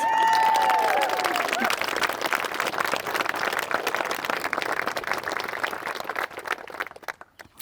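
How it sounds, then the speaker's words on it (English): Wedding guests at a private estate in Perth, Ontario break into a long round of dense clapping that slowly thins and fades out, with a brief voice at the start. "this wedding party deserves a wild round of applause"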